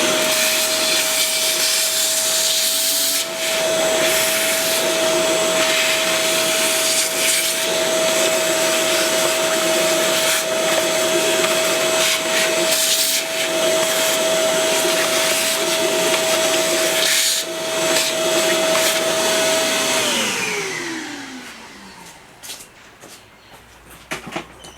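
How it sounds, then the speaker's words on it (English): A vacuum cleaner sucks debris out of the airbox of a 2021 Kawasaki Ninja 1000 SX, a loud, close, steady whine with occasional rattling bumps for about twenty seconds before it winds down, followed by a few faint clunks. "so I'm just going to vacuum that out"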